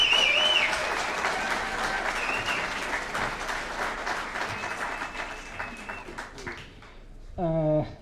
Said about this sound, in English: as long as we're clapping